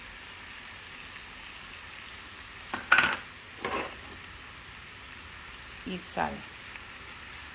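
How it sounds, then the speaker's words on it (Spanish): Tomato frying in a pan as it is stirred: a soft, faint sizzle underneath, broken by a few sharp clinks of a utensil against the pan, with a brief spoken word. "Vean, ya está bien freído el tomate."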